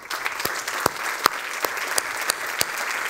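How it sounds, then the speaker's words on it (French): An audience applauds police officers, a fairly sparse round of clapping with distinct sharp individual claps standing out above a softer, steady background of hands. "j'aimerais qu'on vous applaudisse, messieurs"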